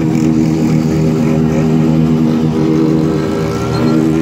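A Honda vehicle's engine drones steadily and loudly at close range with a sustained, buzzing harmonic tone, holding a constant pitch throughout with no talking.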